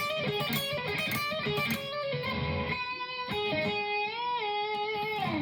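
An electric guitar plays a harmonic minor lick in A with a driven tone, a quick melodic run of sustained, bent and vibrato notes, moderately quiet and without talk.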